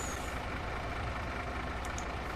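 A lorry in Farming Simulator 22 reverses toward a sell point carrying cheese, its engine a steady, dense rumble with a faint high reversing beep near the end.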